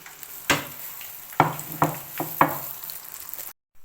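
Fish pieces frying in hot oil in a batch, a steady crackling sizzle broken by several sharp bursts as pieces hit the oil, then a sudden cut to silence.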